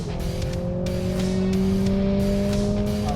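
Mercedes-AMG A45S pulling hard under full throttle, its loud engine note climbing steadily in pitch with brief dips at quick gearshifts, heard close and continuous.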